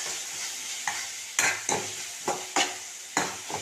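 Crushed garlic, about ten cloves, stirred and fried in oil for a crab masala, with a steady sizzle broken by several sharp scraping stirs at irregular intervals, close and moderately loud.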